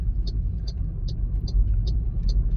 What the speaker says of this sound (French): on entend quand même le bruit des pneus